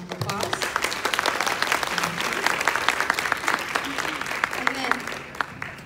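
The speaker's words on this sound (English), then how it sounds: "if we could give them a round of applause" An audience gives a panel a round of applause, steady dense clapping filling the room from start to finish with a few louder individual claps standing out and faint voices underneath.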